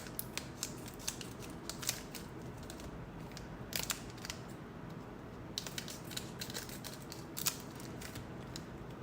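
Scissors snip open One Piece OP-05 card packs in quick bursts of small crisp cuts, close and fairly quiet, with pauses between packs and faint crinkling of foil wrappers.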